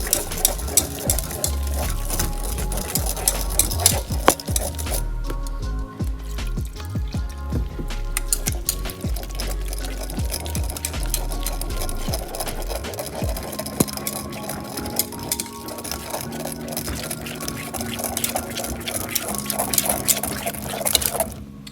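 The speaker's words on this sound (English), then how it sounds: "this is my part where I add a bunch of soy milk, whisk it," Soy milk whisked into a pot of oat and maizemeal porridge, a long run of quick wet scraping and sloshing strokes, close and fairly steady, with one brief pause partway through.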